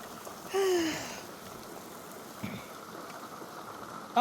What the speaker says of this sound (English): Big fat raindrops.